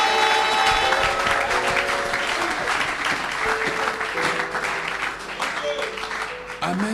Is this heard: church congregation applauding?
yes